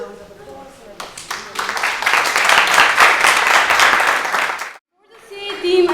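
Applause from the audience after the final of a debating tournament, loud and sustained for several seconds, then cut off abruptly, followed by a brief pause before a voice begins speaking.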